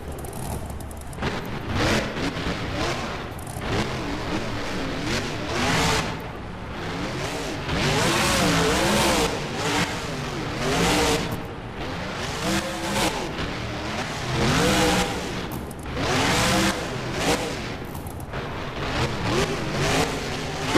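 A video-game monster truck in a BeamNG freestyle run at a stadium roars continuously, its engine surging and revving in repeated waves through big air and wheelies, with occasional tire noise and no voices.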